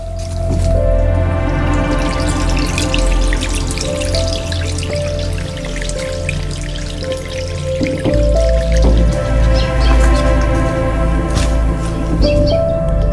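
A thin trickle of water drips and patters in an irrigation channel along a mountain trail, a continuous close string of small drops over a low steady background drone, with no talk.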